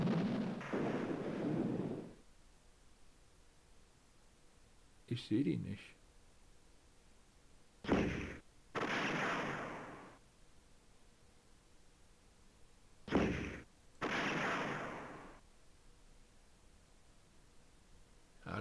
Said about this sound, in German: Ich werde unter Beschuss genommen von einer Einstar-Kanone.